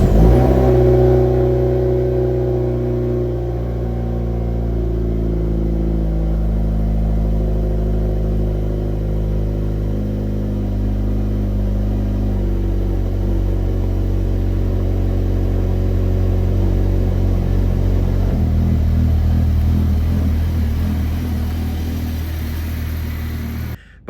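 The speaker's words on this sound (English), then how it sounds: "the stock exhaust on this car is probably one of the best that you can get for the price range" A 2025 Hyundai Elantra N idles and revs through its stock exhaust with a deep rumble, steady and close, with a few throttle blips and no talking.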